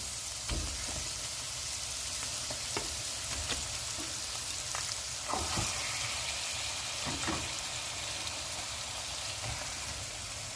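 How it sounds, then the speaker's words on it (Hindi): Chicken fries in a pan for Arabian kabsa with a continuous hissing sizzle, while a spatula stirs now and then with soft scrapes and taps. "और थोड़ी देर तक इसको भूनेंगे"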